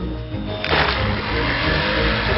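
A battery-powered toy speedboat in a cartoon hums along with a steady, close buzz that swells a little around the middle of its short run.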